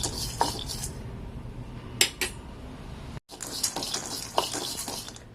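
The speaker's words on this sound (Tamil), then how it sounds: "சும்மா அப்படி வெறும் பாத்திரத்திலே வறுத்து எடுத்துக்கலாம்." Rice dry-roasts in an empty pan with no oil, a light dry rustle broken by a few sharp metallic scrapes and clinks of a spoon against the pan, close by with no voices.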